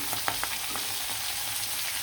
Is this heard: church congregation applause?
no